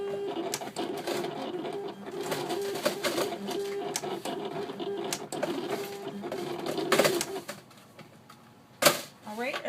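A Silhouette cutting machine works a design on a cutting mat, giving a steady mechanical whir with rhythmic motor chatter and clicks, near and continuous, with a brief louder clunk near the end.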